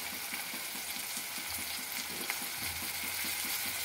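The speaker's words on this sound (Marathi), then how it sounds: "1 मिनिट कांदा परतून घ्यायचे. मग आपण त्यात टोमॅटो ऍड करूया" Chopped onion frying in a pan over a fast gas flame before tomato goes in, a continuous soft sizzle with a faint regular ticking throughout.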